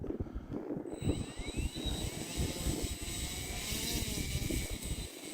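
An Arrows Husky Ultimate RC airplane whines nearby on a windy evening, its electric motor holding a steady high tone with rising and falling harmonics while wind rumbles and buffets the microphone throughout.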